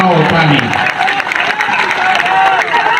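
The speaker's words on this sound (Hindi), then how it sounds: "अब बजाओ ताली" An audience at a Jan Suraaj political rally in Jhanjharpur claps in a dense, continuous patter, mixed with crowd noise, while a speaker's voice carries over it.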